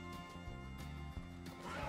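Horse in Red Dead Redemption 2 whinnying close by, a loud neigh with hoof clip-clops and tonal game music running underneath.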